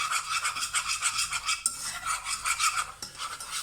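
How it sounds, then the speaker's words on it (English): Butter and flour whisked together in a pan to cook out a roux for a homemade KFC-style burger sauce, giving steady close scraping and swishing strokes in a quick rhythm with no talking. "we're just going to keep whisking that and keep heating out the flour so it gets rid of that floury taste"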